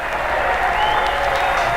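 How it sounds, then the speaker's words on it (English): Crowd shouting and clapping at a bullfight ring: steady, dense applause and cheering roar throughout, fairly loud and continuous with no individual voices standing out. "everyone shouted and clapped because they thought he was going to fight fiercely"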